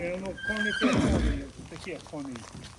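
Young Brabant draft horse foal on a farm where foals are for sale, whinnying loudly nearby in a long, wavering neigh while people talk over it.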